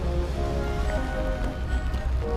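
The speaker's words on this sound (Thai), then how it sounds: "ตอนนี้ฝนตกอยู่นะ" Rain falls at the Würzburg Residence in Würzburg, Germany, as a steady, dense hiss of drops with a low rumble underneath, continuous for the whole moment.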